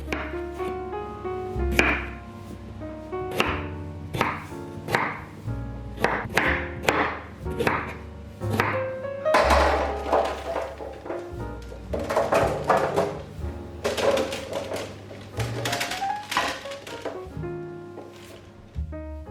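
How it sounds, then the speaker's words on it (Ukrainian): Repeated knife chops through unpeeled potatoes, beetroot, carrots and celery on a cutting board in irregular bursts, close and fairly crisp, with no talking. "Всі овочі я мию та нарізаю"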